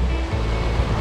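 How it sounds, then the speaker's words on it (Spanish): A mountain stream rushes downhill near the village of Bagergue in the Val d'Aran, a loud, steady, broadband roar of flowing water with no break. "Mira el agua cómo baja de ahí."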